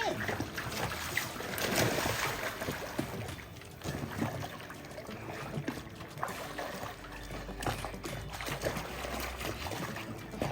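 Splashing water as people jump off a boat into the sea in the Bahamas, broken splashes over boat and wave noise, with excited voices talking throughout.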